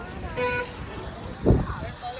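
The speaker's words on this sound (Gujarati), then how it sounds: "ફોર વ્હીલર આવી ગયા." A four-wheeler car pulls up amid heavy traffic near Beyt Dwarka. A short horn toot and a passing engine rumble sound close by as people talk over them.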